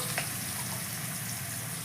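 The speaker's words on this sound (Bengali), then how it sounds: "আলুটা একটু ভাজা ভাজা হলে তারপরে আমি মশলাটা দেব।" Potato pieces fry in hot oil for a Bengali koi fish curry with bori, a steady close hiss with faint bubbling and no voices.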